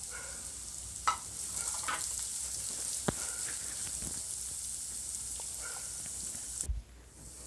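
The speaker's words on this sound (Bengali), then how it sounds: "পেঁয়াজগুলো ভালো করে ব্রাউন কালার করে ভেজে নেব।" Chopped onions sizzle in hot oil with garam masala, browning for a chicken tikka gravy: a steady, close frying hiss broken by a few sharp stirring clicks, cutting off abruptly near the end.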